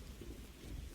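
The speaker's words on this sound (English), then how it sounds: "The rain at this point, the rain has picked up so much" Heavy rain pours as a dense, continuous wash of noise with a deep low rumble beneath it, steady and enveloping, with no voices.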